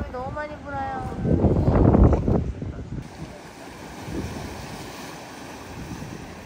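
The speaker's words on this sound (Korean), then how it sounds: "바람이 너무 많이 불어요." Strong coastal wind buffets the microphone on Gapado off Jeju Island, roaring with surf and sea noise; a voice speaks over the start, then steady, loud wind rushes on alone.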